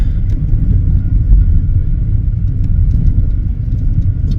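Freight cars of reefers, stock cars and drop-bottom cars roll past at close range on a Colorado–New Mexico line, a steady heavy low rumble with faint clanks and squeals that stays even throughout.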